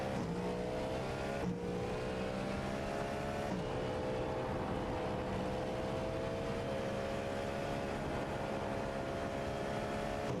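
Cadillac GT3 race car engine in a racing game at Watkins Glen, a steady droning engine note held under load with subtle pitch shifts as gears change, continuous and fairly quiet throughout.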